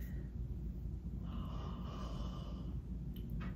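A person yawns on a long exhale during a throat energy-healing exercise, a breathy, drawn-out vocal sigh rising in the middle, then soft breathing.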